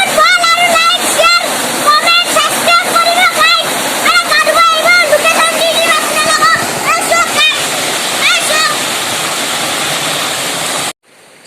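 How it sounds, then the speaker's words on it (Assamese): Fast-flowing river water at Bogamati rushes loudly and continuously, close by, with a voice speaking over the roar for most of the stretch before it cuts off abruptly. "পানী ধাৰ চাওক, পানী চাইছে কিমান ধাৰ।"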